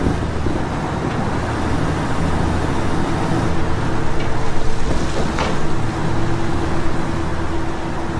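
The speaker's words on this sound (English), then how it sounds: "Now Nomad and Holt are going to use the truck to get into the camp without being detected." A truck rolling into a cartel camp in a tactical shooter game, a steady close engine rumble and road roar mixed with wind, with faint clanks from the vehicle.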